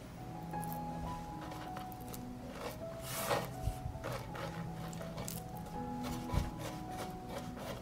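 Patty being rolled in almond flour, soft close squishing and rubbing with faint light clinks, quiet and without talking.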